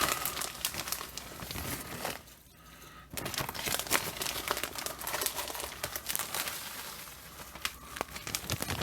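A plastic bag of crumb and cheese mixture for a yellow squash casserole crinkles and rustles steadily at close range, with a brief lull partway through.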